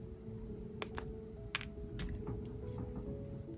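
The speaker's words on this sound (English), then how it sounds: "now I'm going to snip off the excess" Wire cutters snip excess wire from a beaded jewelry piece, giving a few sharp, faint clicks spaced over a quiet, humming room.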